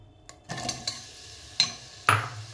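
Whole spices being stirred in hot oil in a pan while cooking biryani, a few sharp metal spoon scrapes and clinks against the pan over a faint sizzle, close and sparse.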